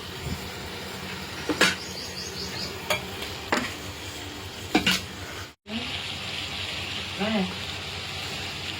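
Tomato curry in a pan is turned over with a few distinct scraping stirs, sharp spoon clacks against the pan between gentle sizzle, with a short sudden gap and faint background voices.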